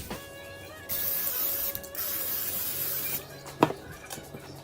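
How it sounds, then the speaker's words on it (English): Butter-flavored cooking spray hisses from a can onto a waffle maker in a couple of short bursts, close and fairly quiet, followed by a light clatter. "spray with some little butter flavor"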